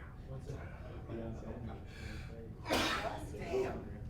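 At a football press conference, one forceful sneeze erupts near the microphone, a brief explosive burst set among ongoing conversation.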